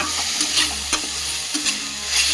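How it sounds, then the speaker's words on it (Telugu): Onions frying in oil in a pan for a drumstick-leaf (moringa) rice dish, with a steady close sizzle and repeated scraping stirs of a spatula, no voices. "ఇలా కొద్దిగా ఆయిల్లో మగ్గే వరకు అటు ఇటు వేయించుకుందాం"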